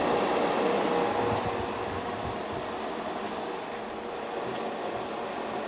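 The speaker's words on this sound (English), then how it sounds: "We have to excuse the fan noise for a bit." A fan runs to clear fumes while something dries, giving a steady, fairly loud broadband whir that holds for the whole stretch with no voices over it.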